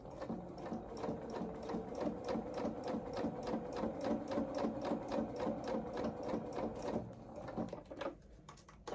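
A sewing machine stitches the knee pads of small doll-sized coveralls, a quiet, close, steady rapid run of needle strokes that slows and stops near the end.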